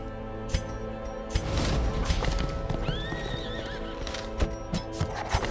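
A horse whinnies and its hooves clip-clop in a dark horror video game, with clinking mechanical noises and ambient sound around it and no talk.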